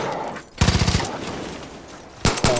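Gunfire in the video game Far Cry 5: a loud rapid automatic burst of about six shots, then a quieter stretch, then another short close burst.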